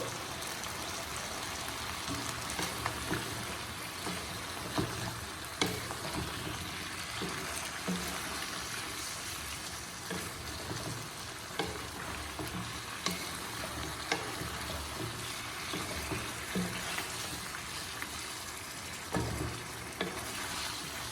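Chicken karahi sizzles and fries in a pan with red chilli, a steady loud hissing crackle throughout, with occasional stirring knocks and clinks near the mic and no voices.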